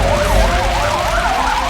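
A wailing emergency vehicle siren sounds during a reservoir dam-collapse disaster drill in Haenam County, Korea, rising and falling in steady cycles, loud and continuous with no talk.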